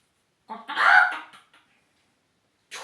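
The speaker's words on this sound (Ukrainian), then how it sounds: "О, сусідські кури неподалік." A single close, squawky chicken call rises and fades, followed by silence and the start of another brief cluck at the end.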